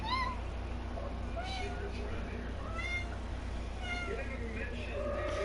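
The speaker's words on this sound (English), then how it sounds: "my little kitty's in heat" A female cat in heat meows repeatedly in rising, wavering calls over a steady low hum, with background talk and a game running indoors.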